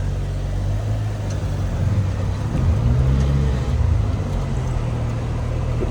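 An old car revived with a used 1.3L engine drives along, its engine droning low and steady with a brief rise in revs midway, a continuous in-cabin rumble without talk.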